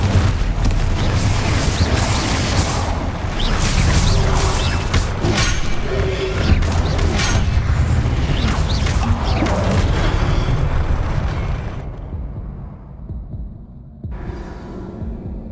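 Confringo blasting spell in Hogwarts Legacy, a fiery explosion amid combat: heavy booming blasts and crashes, loud and dense for about eleven seconds, then fading to a low rumbling hum.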